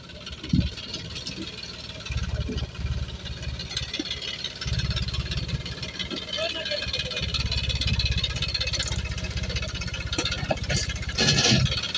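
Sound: Massey Ferguson 2620 tractor engine running

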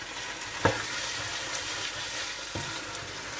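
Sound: fresh peas frying with chicken keema

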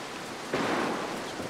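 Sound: thunder in the video game Mark of the Ninja

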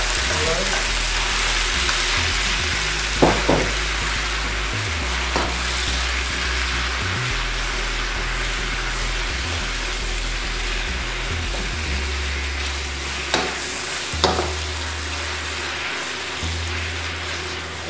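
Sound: beef frying and sizzling in hot oil

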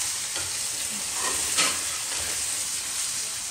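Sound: chopped tomatoes frying in masala

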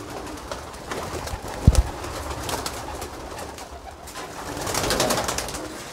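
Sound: flock of pigeons being released and flying off

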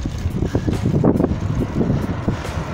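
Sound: wind blowing

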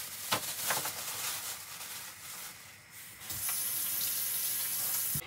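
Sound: tap water washing tomatoes in sink

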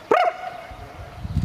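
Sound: English Springer Spaniel dog barking

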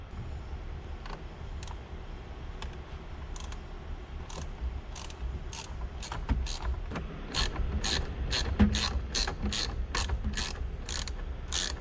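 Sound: ratchet with star bit removing Honda Fit airbag bolts

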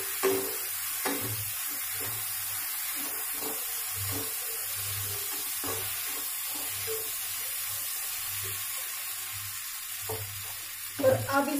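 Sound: stirring fried okra masala bhindi in a pan

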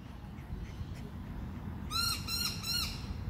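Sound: noisy miner birds twittering

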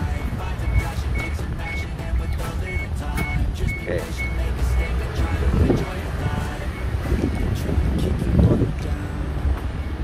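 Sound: strong wind blowing into microphone

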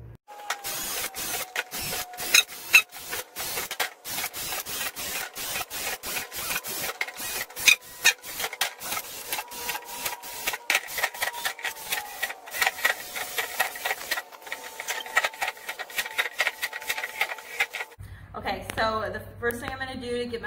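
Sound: drilling holes in a plastic worm bin

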